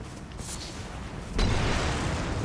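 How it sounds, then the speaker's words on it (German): An explosion in the video game Elden Ring, set in a catacomb: a sudden broadband blast midway through that swells into a sustained, fairly loud roar over the game's background rumble. "Ist es explodiert? Ja, genau so sieht es aus."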